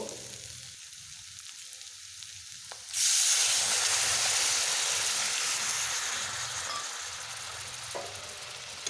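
Water poured into a pan of spiced potato and bacha fish curry sets off a sudden loud, sustained hiss that slowly fades, after a few seconds of quiet low sizzling.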